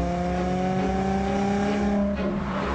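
A Nissan 350Z V6 engine holds a steady, smooth, loud drone from inside the car, its harmonic tone rising slightly as the revs climb, with no talking.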